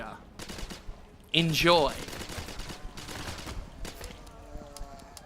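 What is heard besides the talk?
gunfire in the video game Dead Purge: Outbreak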